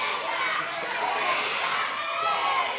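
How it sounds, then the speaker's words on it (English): Wrestling crowd at the Night Market Arena during an IPW women's championship match, a steady dense wash of many voices chanting and cheering throughout, loud and continuous. "listen to that crowd. The new suck chants filling the Night Market Arena."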